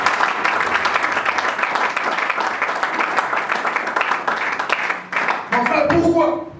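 A church congregation breaks into sustained applause to acclaim the Lord, with many hands clapping densely and evenly before the clapping thins out near the end as voices and other sounds come through.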